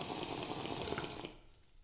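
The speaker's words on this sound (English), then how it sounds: "Bubbly water." Bubbling, gurgling water from grapefruit juice being made in the game Underdog, a steady, fairly loud stream that fades out near the end.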